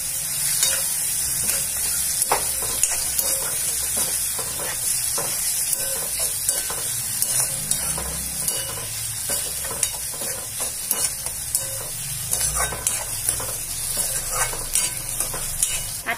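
Crushed green chili thecha, made from roasted chilies, sizzles loudly and steadily as it fries for a Jalgaon-style brinjal bharit, with frequent scraping strokes of stirring throughout.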